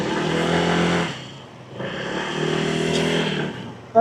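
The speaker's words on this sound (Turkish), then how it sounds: "Çok hafif gaz ver." A motorcycle engine is given very light throttle, revving up twice in two short swells with a dip back to idle between them, close and moderately loud.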